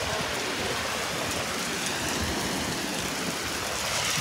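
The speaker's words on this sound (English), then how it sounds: "So take a look at this rain." Heavy rain pours down in Los Angeles, a steady, dense hiss of drops on surfaces that stays loud and unbroken throughout, with no voices.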